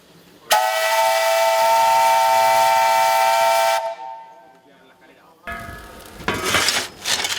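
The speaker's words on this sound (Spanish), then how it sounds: "es tocar el silbato para que la gente se percate de que el tren se va a poner" A loud, sustained whistle on a 12-ton steam tractor over 100 years old blows for about three seconds and cuts off, followed by a pause and then a hissing rush of steam.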